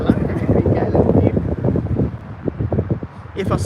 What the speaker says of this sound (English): A very windy Birmingham Airport